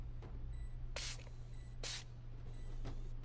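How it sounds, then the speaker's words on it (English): Two short, loud hissing bursts of Windex being sprayed in the video game Five Nights at Freddy's Help Wanted 2, heard over a steady low background hum. "Now I need to spray him with some Windex."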